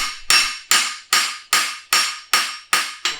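Close, bright hammer blows ring out as a hind preventer horseshoe is flattened on an anvil, eight evenly spaced strikes each decaying quickly, with the last two coming closer together.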